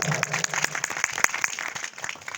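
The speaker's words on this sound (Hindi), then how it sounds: "एक दफा फिर कलाम के लिए जोरदार तालियां" A congregation at a church sermon claps together, a dense burst of hand claps close by that thins out toward the end.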